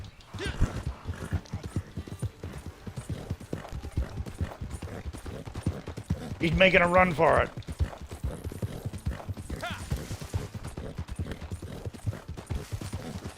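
Horse hooves galloping in a video game, a fast, continuous clip-clop drumming close up with a brief whinny in the middle, under people talking.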